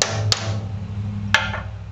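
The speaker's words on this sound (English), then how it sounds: "So I hold my chuck and tap." A hammer taps a steel drift to knock a drill chuck free from a drill press quill, giving two sharp metallic taps about a second apart over a steady low machine hum.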